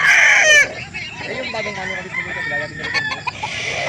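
Young rooster (stag) crowing at a poultry market in Calauan, Laguna, one loud close crow at the start, followed by softer clucking and market chatter, with people talking nearby.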